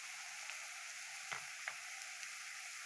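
Onions frying in a pan as spices are poured in, a quiet continuous sizzle broken by a few soft clicks and knocks of a utensil, heard alone without talking.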